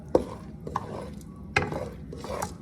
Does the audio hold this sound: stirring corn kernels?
yes